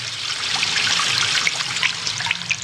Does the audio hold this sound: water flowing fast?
yes